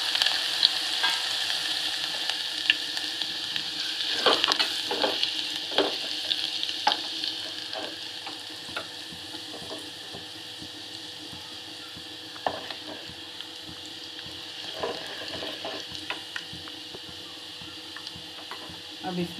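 Cumin, mustard seeds and coarsely crushed garlic sizzle and crackle in hot oil for rava upma, a steady close frying hiss broken by stirring clatter and a few sharp pops.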